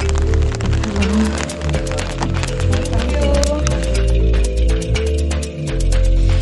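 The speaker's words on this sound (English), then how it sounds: "The weather was gloomy and rainy the whole afternoon" Steady rain pours onto a hard surface at La Vue Cabine in Cebu on a gloomy afternoon, a dense continuous patter with scattered louder drops, close and loud with no voices.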